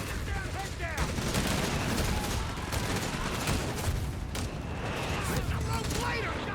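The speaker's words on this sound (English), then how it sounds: "Mortar half-tank keeps at it." Mortar half-track firing in Company of Heroes 3, a World War II strategy game battle, with dense continuous gunfire and explosions layered throughout, loud and busy from start to finish.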